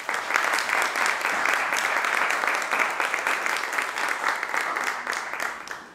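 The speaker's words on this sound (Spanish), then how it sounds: "Les pido un aplauso para la profesora Elena Escolano." Audience at a book presentation in Barcelona applauds steadily, a dense wash of many hands clapping that holds for several seconds and tapers at the end.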